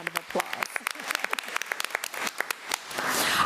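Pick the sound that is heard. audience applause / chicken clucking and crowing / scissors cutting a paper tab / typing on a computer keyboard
audience applause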